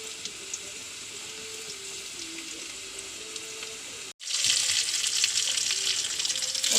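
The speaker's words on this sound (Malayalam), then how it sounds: "എണ്ണ കാഞ്ഞു, ഉള്ളി ഇടുന്നു." Sliced onions crackle and sizzle in hot oil in a pan for a Kerala-style egg curry, a steady frying hiss that suddenly surges louder after a brief gap, with no voices.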